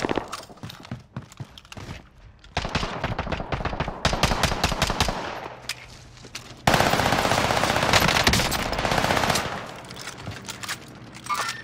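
Video game machine gun fire in a battle royale shooter, with sustained loud rapid bursts broken by short pauses and clattering impacts, close and dense throughout.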